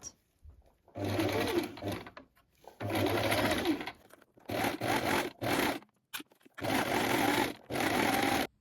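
A sewing machine runs zigzag stitches on an elastic-waist skirt in bursts: several loud, steady whirring runs of one to two seconds separated by short pauses and faint handling noises.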